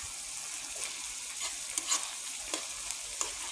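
Bopis sautéing in a pan, a steady close sizzle with scattered scraping stirs and small pops across the clip, no talking.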